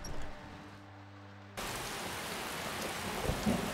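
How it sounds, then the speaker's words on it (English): Steady rain with a thunder rumble in the Skyrim world around Falkreath, starting as a soft hum with low tones, then breaking into a loud, dense downpour that fills the rest. "And get out of the rain."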